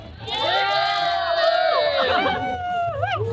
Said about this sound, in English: That's a good chant.